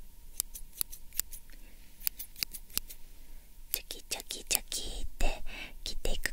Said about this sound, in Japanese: このハサミのチョキチョキが何回聞こえたか私に教えてね